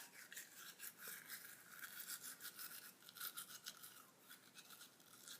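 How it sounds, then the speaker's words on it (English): A toothbrush scrubs teeth in quick, rhythmic strokes, the wet bristly swishing close up and faint, with no talking. "I just make sure my toothbrush touches like every area I get in the back"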